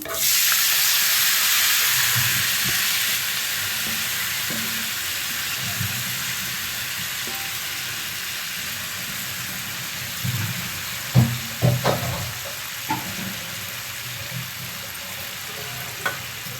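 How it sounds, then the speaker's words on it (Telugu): Potato pieces frying with tempering spices in a pan: a loud, steady hiss that gradually eases, with scattered stirring knocks and scrapes later on. "ఇప్పుడైతే మనం కలిపి ఉంచుకున్న ఈ బంగాళదుంప ముక్కల్ని వేసుకుందాం ఇందులో"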